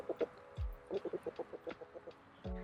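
Backyard homestead chickens cluck in a steady run of short, soft, rhythmic notes nearby, with a couple of low thumps and otherwise calm surroundings.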